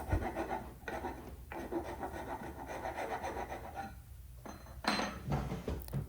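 A hand file rasps over wooden mortises cut into table legs, giving repeated rhythmic scraping strokes with brief pauses between them, close and moderately loud.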